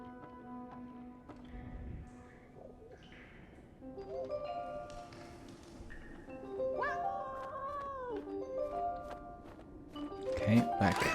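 A cat meows in the video game 11-11: Memories Retold, several soft, rising and falling meows from nearby over quiet game ambience, with light tapping and a louder cry near the end.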